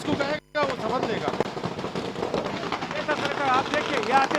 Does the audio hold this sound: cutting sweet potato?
no